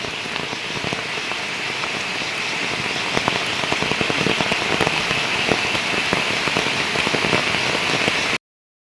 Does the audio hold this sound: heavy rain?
yes